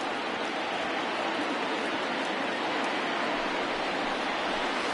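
Stadium crowd in MLB The Show 2020, Cleveland vs Detroit, a steady broad roar of a large crowd rising and cheering throughout, with a sharp click right at the end.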